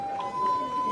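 An ambulance siren wails steadily as an emergency vehicle works its way through a street barricade during unrest in Myanmar, a sustained loud tone that holds for under a second.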